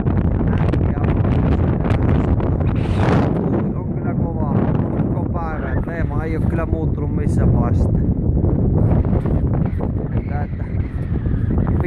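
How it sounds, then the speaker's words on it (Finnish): Strong wind on the ice during an ice-fishing trip in northern Norway, loud constant gusting and roaring against the microphone, with someone talking over it. "Tuuli on kyllä kovaa koko päivän."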